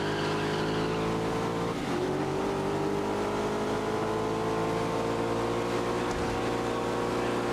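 Porsche race car engines drone steadily in a racing video game, with layered high-revving tones, shifting pitch and brief gear-change dips under continuous engine noise.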